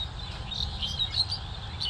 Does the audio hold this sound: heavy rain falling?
no